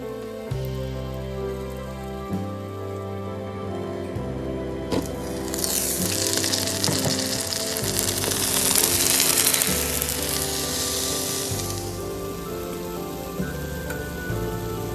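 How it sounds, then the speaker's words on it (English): Socca flatbread batter cooks slowly in a covered pan over very low heat, making a steady, rain-like hiss and crackle that swells in the middle, while background music plays throughout. "Add the batter. Let's cover and cook on a very slow heat."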